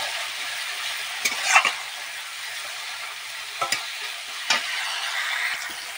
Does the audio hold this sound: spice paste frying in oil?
yes